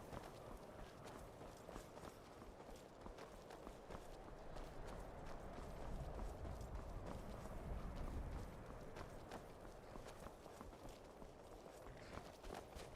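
Horse hooves clip-clop steadily in the Skyrim video game, a continuous rhythmic patter of quick hoofbeats at a moderate, fairly quiet level throughout.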